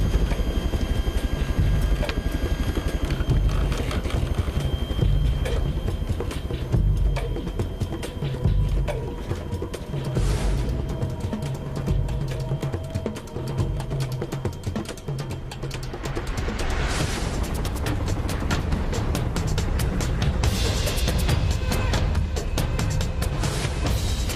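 A steady, low rotor thrum from helicopters drones throughout and grows denser and louder toward the end, with no talking.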